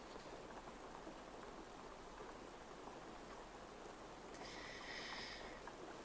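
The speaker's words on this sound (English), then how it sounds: "Not in here though, it's raining. I don't know if you heard that." Steady rain falling outside, a constant dense hiss of drops on surfaces, faint and even throughout with a brief brighter patter toward the end, no voices.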